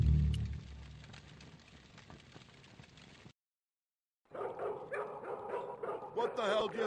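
Dog barking and yipping in the PC remastered Broken Sword 2: Smoking Mirror, excited woofs and whimpers in the second half after a brief silence, with voices talking earlier in the scene.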